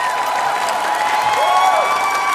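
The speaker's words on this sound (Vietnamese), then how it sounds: "Xin hãy dành một tràng pháo tay cho gia đình Bạch Gia Trang ạ." Studio audience applauding a family on a televised Vietnamese singing talent show, steady dense clapping and cheering throughout, with music and crowd noise mixed underneath.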